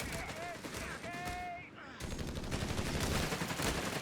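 Rapid gunfire and machine-gun bursts crackle through a Company of Heroes 3 battle, dense and continuous for several seconds, while a commentator talks over the action.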